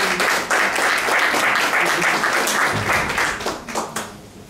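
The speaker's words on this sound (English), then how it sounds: "Let's give yourself a round of applause for coming and being a part of this." A conference crowd at a hotel in Accra, Ghana, applauds throughout. The clapping is loud and dense, with no voices, and it thins slightly toward the end.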